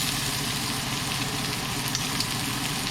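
Chopped onion hits a hot pan during lemongrass chicken cooking, a steady broad sizzle of frying that holds constant with no talk over it.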